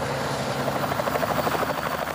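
A helicopter flies overhead during a polar bear release near Hudson Bay, its rotor producing a loud, steady rhythmic chopping and engine drone with no voices.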